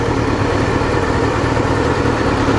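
A motorcycle engine drones steadily while riding, a loud, close, continuous rumble mixed with rushing wind and no pauses.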